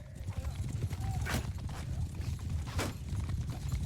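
Horse hooves clip-clop in the video game Mount and Blade Bannerlord 2, a steady trotting patter of galloping mounts in battle with a couple of sharp clashes over it.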